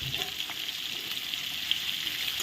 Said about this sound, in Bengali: তেল গরম হয়ে গেছে এখন আস্তে আস্তে পেঁয়াজগুলো দিয়ে দিলাম